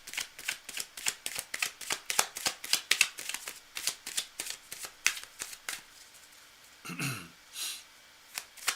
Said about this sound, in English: I'm going to shuffle a little tiny bit more